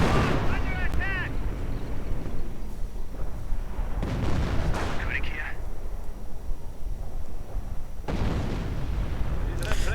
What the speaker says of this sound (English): There we go, the roar of the howitzer.